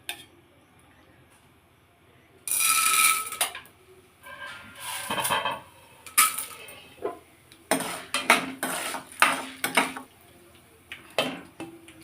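Popped corn being tipped from a pan into another bowl gives clattering metal, scraping and light rattling in a close series of bursts after a quiet start.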